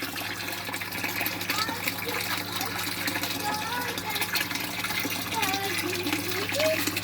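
An aquaponics pump churning the water of a fish tank, a steady gushing splash with bubbling and trickling throughout, a low constant hum underneath and talking over it.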